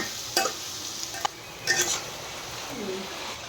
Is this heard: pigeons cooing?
no